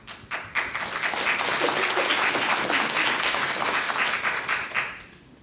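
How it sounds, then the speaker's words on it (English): Audience at a public school board input meeting clapping, individual claps at first swelling into sustained applause and then thinning out at the end. "If you could hold your applause, please, to not take away time from speakers."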